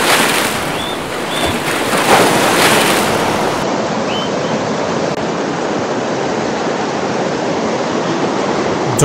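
Water rushes steadily from a waterfall in a mountain valley in Kashmir, a dense continuous roar close by with no pauses, and faint birdsong slips in once or twice.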